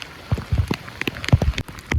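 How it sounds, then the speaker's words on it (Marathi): Heavy monsoon rain drops strike close by in Konkan, landing as irregular, loud taps and thuds on a surface with short gaps between them. "पावसाला जोरदार सोड सुरुवात झालेली आहे"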